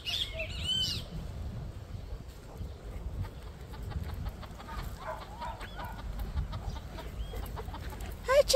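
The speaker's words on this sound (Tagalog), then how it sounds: "Chicken." Chicken clucking in a botanical garden park in Bermuda, heard as a few brief calls near the start and scattered softer clucks later over steady outdoor background noise, fairly close but not loud.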